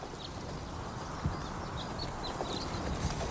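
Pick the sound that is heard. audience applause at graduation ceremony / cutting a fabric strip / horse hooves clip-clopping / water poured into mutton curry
horse hooves clip-clopping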